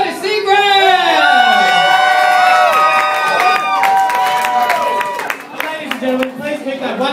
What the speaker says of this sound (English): Wonderful round of applause going for our boss here on a Friday night